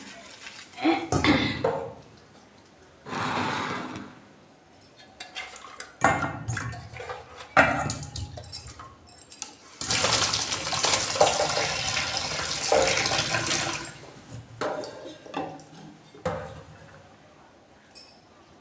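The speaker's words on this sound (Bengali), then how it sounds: "মাছটা এখন আমি ধুয়ে দিচ্ছি" A fish under running water from a kitchen tap, heard in several splashing bursts with a longer steady stretch in the middle, broken by quiet pauses, coughs and bits of speech.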